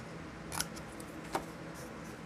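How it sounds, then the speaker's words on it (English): Scissors make two faint, quick snips into a plastic trash container being cut into a seed pot, against a quiet background hum. "I snip on both sides just a little."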